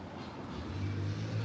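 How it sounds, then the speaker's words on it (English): A restored Porsche 930, a 911 with a flat engine, passing by: a faint, low engine drone that swells midway and holds steady, heard from a distance with no talk. "I heard that flat engine coming down. I was like, that is a 911."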